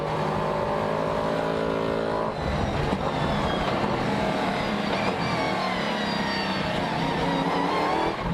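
A 5-litre V8 Nissan-powered Ligier LMP3 and a 7-litre V8 Corvette race in a GT event, loud engines howling close by through gear changes, one steady note giving way to a rising, passing roar.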